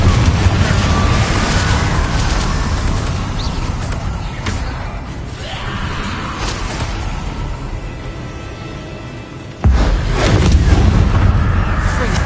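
Spell explosions from Confringo and Incendio in the video game Hogwarts Legacy: dense, loud bursts and booms over a rumbling low bed, with a sharp louder blast near the end, no speech.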